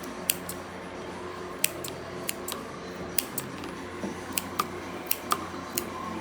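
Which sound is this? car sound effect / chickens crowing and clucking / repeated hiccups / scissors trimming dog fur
scissors trimming dog fur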